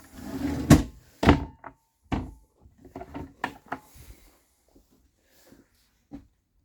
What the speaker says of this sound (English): We'll close this door.